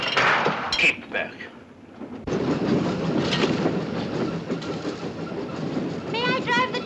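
A steam train runs on rails in a 1959 adventure film set on the North West Frontier, a steady rumbling rattle of wagons filling most of the scene after a brief quieter stretch with voices.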